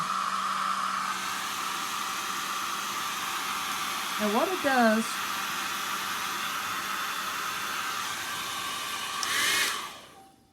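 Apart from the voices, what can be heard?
hair dryer blowing on low speed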